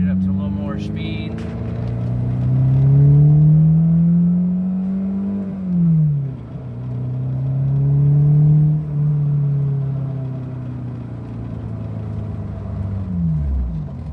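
Car engine pulling through several gears on a street, pitch rising in steady sweeps then dropping at each shift before climbing again, close and continuous; the clutch needs bleeding.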